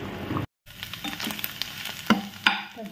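Food frying in a pan in a home kitchen, with a steady crackling sizzle. A brief dropout breaks it early on, and a couple of sharper spits pop up near the end.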